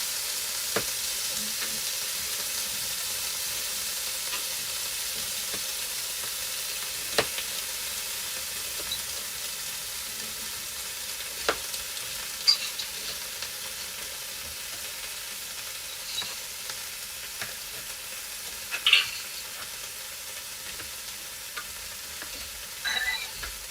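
Steak frying in a pan for a Thai red curry, a steady close hiss of sizzling with occasional pops and stirring clicks and no talking.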